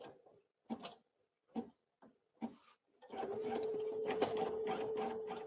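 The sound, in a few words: NQ1700E embroidery machine stitching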